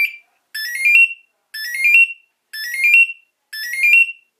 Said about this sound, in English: the sound signature is designed to generate multiple tones that sweep through